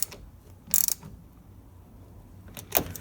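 A car battery clamp bolt is tightened with a ratchet, giving two short bursts of quick clicking separated by a quiet pause, close and crisp against faint background hiss.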